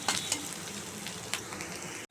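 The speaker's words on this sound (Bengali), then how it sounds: "পেঁয়াজটা লাল লাল করে ভেজে নেব।" Onions fry in hot oil with a little sugar, a steady close sizzle broken by a few scraping stirs of a spatula before it cuts off abruptly, with no voices.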